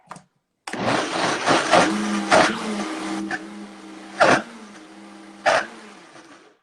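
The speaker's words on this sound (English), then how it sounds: "if I turn on the blender, it'll muddle sound on your ends" A kitchen blender runs loudly and steadily with a constant motor whine, broken by several sharp bursts and clunks as the blades catch on the mixture, after a brief pause at the start.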